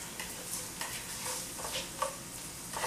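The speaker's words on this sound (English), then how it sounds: "we're going to saute the onions up" Onions sautéing in a pan, a quiet sizzle under intermittent stirring scrapes and soft utensil clicks, fairly faint and steady.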